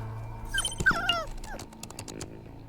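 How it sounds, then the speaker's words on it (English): A malnourished dog whimpers in the video game Tales of the Neon Sea, a few high, wavering whines and yips rising and falling over a steady low game hum, close and moderately loud. "What's wrong with this dog?"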